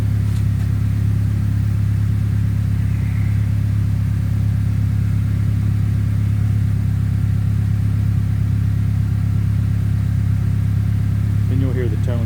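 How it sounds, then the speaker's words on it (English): A 2003 Honda Accord DX sedan fitted with a Magnaflow stainless exhaust idles steadily with a low, constant drone close by, settling as the revs drop, while someone talks faintly over it. "you'll hear the tone change a little bit on it as the RPMs drop to normal idle speed"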